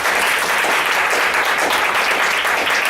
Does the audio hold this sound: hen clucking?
no